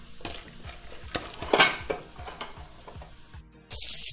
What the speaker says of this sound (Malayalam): അപ്പം ആ കടലയും കൂടെ വറുത്ത് കോരിയെടുക്കുകയാണ്